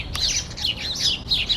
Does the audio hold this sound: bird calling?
yes